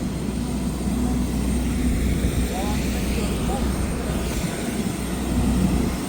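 Airplane engine droning at an airport during boarding for a Tbilisi to Batumi flight, a loud continuous low roar and hum steady throughout, with faint voices mixed underneath.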